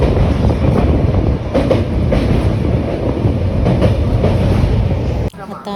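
A passenger train in Punjab rolls past, loud and close, with a continuous rumble and rhythmic clicking of the wheels over the rails. It cuts off abruptly near the end.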